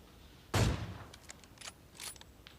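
Gunfire from an M249 light machine gun in the mobile battle royale game PUBG Mobile, one loud close burst followed by a few fainter shots or echoes trailing off, no voices.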